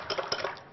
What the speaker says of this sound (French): On remélange le tout